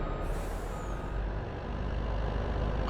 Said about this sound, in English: Oh, I like this truck. I really like this truck.